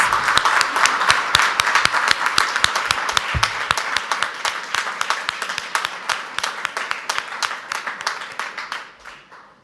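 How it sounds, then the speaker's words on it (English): Audience at an annual student recognition celebration applauding outstanding students, a loud, dense burst of clapping that gradually thins out and fades to a few scattered claps at the end. "let's give a big round of applause for all of our outstanding students"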